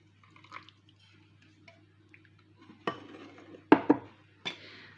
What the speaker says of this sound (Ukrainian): Я трішки зіллю бульйончик